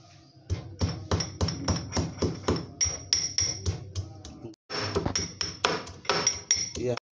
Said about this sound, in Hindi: सबसे पहले अदरक इलायची हरी इलायची और लहसुन का पेस्ट बना लेते हैं